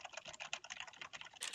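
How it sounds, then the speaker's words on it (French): Fast typing on a Corsair K70 mechanical keyboard, a quick even run of crisp clacking keystrokes, close and clear with no talk. "Et le test du clavier mécanique pour ce casque Razer"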